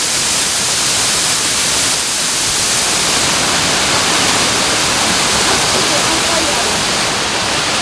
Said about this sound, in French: On était vraiment au pied de la cascade